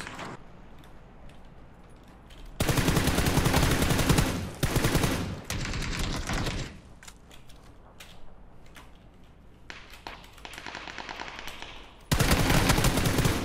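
Gunfire in the PUBG video game, with dense bursts of automatic fire in several loud stretches, separated by quieter gaps of mechanical clicks.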